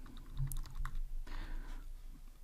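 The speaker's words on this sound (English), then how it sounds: "And we can also type here" Computer keyboard typing: a short run of close key clicks followed by a quicker burst of keystrokes over a low steady hum.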